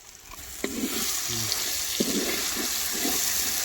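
Ground chili paste goes into hot oil in a pan and fries with a steady loud sizzle, broken by a few knocks and scraping stirs.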